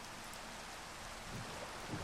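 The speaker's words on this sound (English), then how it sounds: "Of course, it's raining, and I can't sleep to get rid of the rain." Steady rain falls in the blocky world of Minecraft, a soft, even hiss of droplets that holds the whole time at a faint, distant level with no voices over it.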